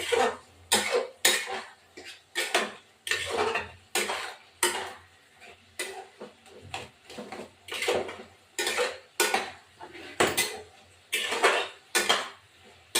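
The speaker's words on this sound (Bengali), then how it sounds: "আলুগুলো একটু ঘেটে দেবো তাড়াতাড়ি হয়ে যাবে" Boiled potatoes are mashed in a pot of fig and prawn curry, giving a steady run of scraping, clattering utensil strikes against the metal, close and fairly loud, with short pauses between bursts.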